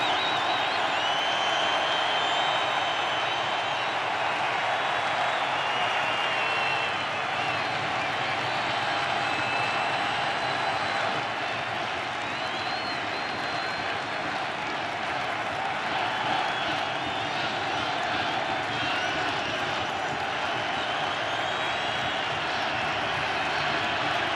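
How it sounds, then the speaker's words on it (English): Dense, continuous roar of a baseball stadium crowd rising to its feet with two strikes on the batter during Game 5 of the 2016 World Series, Indians at Cubs; steady loud cheering throughout with a broadcaster's voice over it. "now the crowd to its feet."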